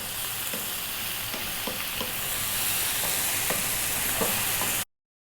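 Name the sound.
stirring spices and tomatoes frying in a pan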